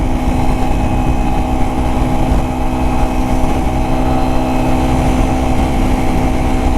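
A Yamaha TW motorcycle ridden at 55 mph on a highway, a loud, constant engine drone blended with heavy wind rush, steady and unbroken.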